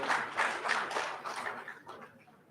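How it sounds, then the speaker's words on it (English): Audience applause at a political policy event in Nigeria, a moderate burst of clapping from a crowd that swells briefly and then tapers off. "Please clap for them."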